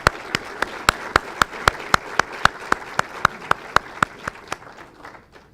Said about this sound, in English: Let's give a round of applause to the American Legion Post 227.